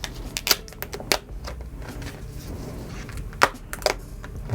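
Protective film is peeled off a new Samsung Galaxy Z Fold 5 phone, heard as quiet crinkles and sharp ticking clicks scattered over a soft background hiss.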